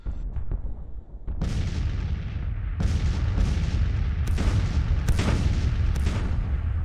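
Civil War cannon fire in the strategy game Grand Tactician rolls out as a series of heavy booms, about six distinct blasts over a continuous rumbling battle backdrop, loud and close with no talk.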